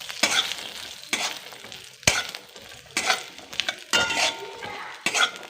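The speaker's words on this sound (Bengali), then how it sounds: "বাদামগুলো দিয়ে একটু নাড়বো," Peanuts stirred in hot oil in a pan for a coconut fritter snack, a sizzling fry under repeated scraping and clinking of a spatula against the pan in uneven bursts, close up with no talking.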